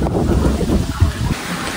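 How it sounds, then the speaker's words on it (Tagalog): Strong wind buffets the microphone beside a river at low tide, a steady roaring rumble with gusts throughout and no voices. "Lakas po ng hangin."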